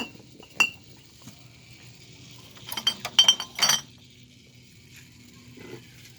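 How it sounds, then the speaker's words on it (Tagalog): Drinking glasses clink sharply as they are gathered up in front of a shop. A single clink comes first, then a quick cluster of bright glassy knocks and rattles, with quiet gaps in between. "yung baso ginamit kagabi"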